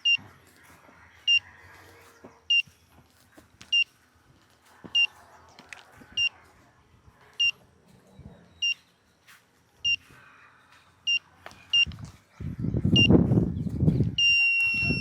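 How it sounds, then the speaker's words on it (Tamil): Handheld groundwater detector used to find a borewell spot, giving short high electronic beeps at a steady pace of about one per second, followed near the end by louder rustling handling noise. "டெப்த் எங்கே அதிகமாக இருக்கும் அங்கே ஹை பீப் இருக்கும்."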